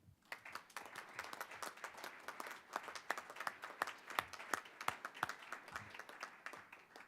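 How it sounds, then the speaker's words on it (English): A small audience at a school board meeting gives a round of applause. The individual claps are distinct and fairly quiet, with a loose, uneven rhythm that stays sustained from start to finish. "just let's give Anya and her team a round of applause"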